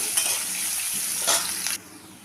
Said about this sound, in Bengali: একটু নরম হওয়া পর্যন্ত পেঁয়াজটা ভেজে নেব